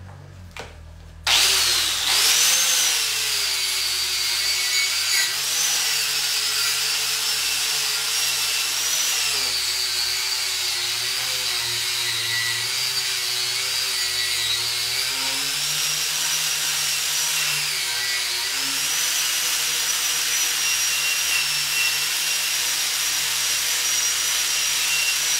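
Stick electrode arc welding runs a pass over a weld bead, with a few brief clicks as the arc strikes. A steady, loud, close crackling sizzle follows and holds for over twenty seconds with slight wavering.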